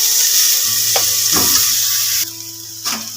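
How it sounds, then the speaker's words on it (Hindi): Potatoes and makhana frying in a pan, a bright hissing sizzle with a few scraping stirs, close and loud before dropping lower, then one more brief stir. "तो मैं इसको फ्राई कर लेती हूँ"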